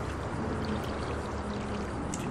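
Mixed paint pours in a steady, close rushing stream in GTA 5, an even liquid wash with no talk over it.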